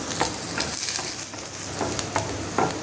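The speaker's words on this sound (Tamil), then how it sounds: "இப்போ பூண்டு வெங்காயம் மிளகாய் இதெல்லாம் நல்லா பட்டரில் வதக்குறோம்" Garlic, onion and chili sautéing in butter over low heat for white sauce pasta, a steady soft sizzle with occasional light stirring scrapes, close and continuous with no talking.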